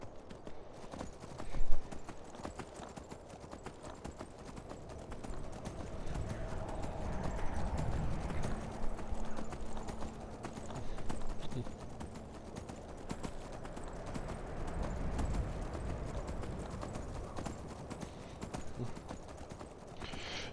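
Horse hooves clip-clop steadily as a rider travels in Skyrim, a continuous rhythmic trot with a neigh early on, set against faint ambient game sound.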